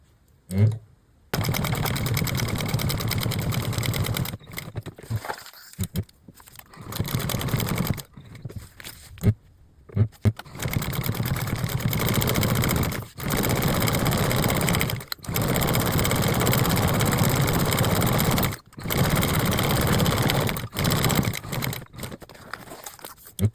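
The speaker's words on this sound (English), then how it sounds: "we've top stitched it on all 4 sides" Sewing machine topstitching the edges of a laptop bag, running in long steady motorized bursts with short pauses between seams, a close mechanical hum and needle clatter, with no talking.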